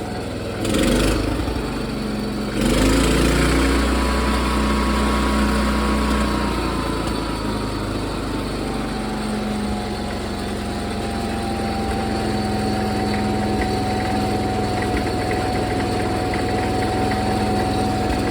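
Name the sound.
John Deere 210 lawn tractor engine idling high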